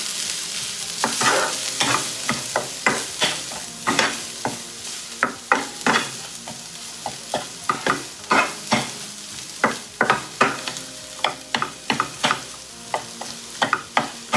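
Spicy potato sandwich stuffing with chopped coriander is stirred in a pan, a constant sizzle punctuated by sharp, regular scraping strokes of the spoon, close and clear with no voices.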